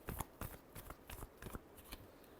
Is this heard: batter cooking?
no